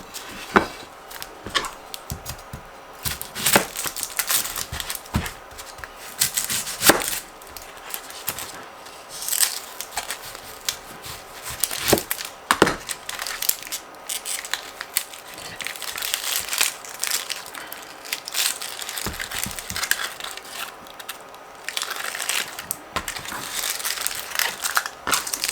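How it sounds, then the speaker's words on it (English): An onion is rough diced with a knife on a cutting board, giving a close, uneven series of crisp crunching chops and knife taps with no talk. "I'm gonna rough dice the onions"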